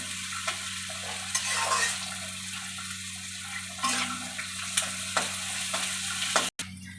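Onions fry in a pan with a soft, steady sizzle, broken by repeated scraping stirs of a utensil, fairly quiet and close.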